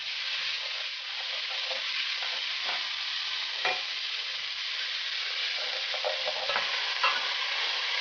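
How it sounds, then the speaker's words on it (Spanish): Finely diced onion fries in oil left over from browning meat for a pot roast sauce base, giving a continuous close sizzle with occasional stirring scrapes and ticks, no talk. "Primero ponemos la cebolla picada en cuadros pequeños."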